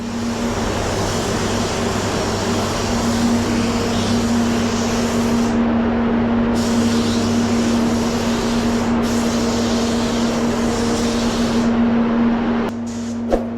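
Spray gun applying a drop coat of paint to a Ford Focus RS, a steady continuous hiss with a constant compressor or extractor hum underneath, holding for most of the stretch before cutting off near the end.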